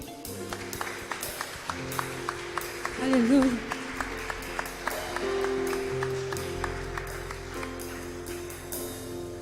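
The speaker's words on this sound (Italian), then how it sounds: "Ti invito a fare un applauso al Signore." A church congregation claps in a steady rhythmic beat over sustained keyboard tones, while a voice calls out in praise.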